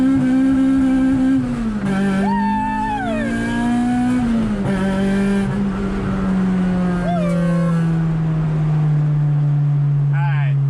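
An Acura RSX base model accelerates hard in second gear from about 45, its engine note climbing steadily and loudly for several seconds before easing, with brief voices over the start.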